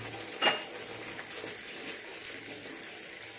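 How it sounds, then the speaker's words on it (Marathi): Cumin and mustard seeds crackle and splutter in hot oil, a faint steady sizzle with one brief louder pop near the start, quiet and alone without voices. "आता आपली जिरा आणि मोहरी छान असं तडतडत आहे"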